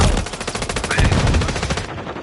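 Rapid automatic gunfire in the video game Call of Duty: Modern Warfare 3, a loud, dense burst of evenly spaced shots that tails off near the end.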